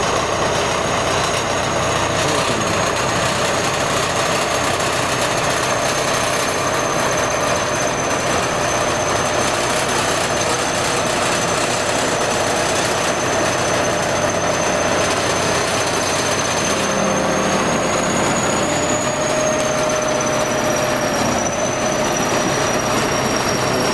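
A heavy machine levelling damp soil at a pond runs with a loud, continuous engine drone and a steady high whine throughout, nearby and alone, with no talk.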